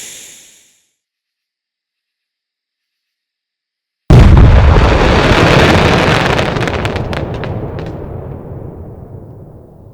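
In the video game Fireworks Mania, a brief firework fuse hiss fades out, then after a few seconds of silence a massive explosion erupts, with a loud rumbling boom that slowly decays and crackles away.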